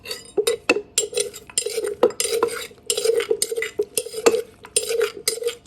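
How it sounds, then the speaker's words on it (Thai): Durian papaya salad is pounded in a mortar with steady, rhythmic knocks and clinks of pestle and utensils, close and fairly loud, with no talking. "ไม่ต้องตำแรงนะโคก"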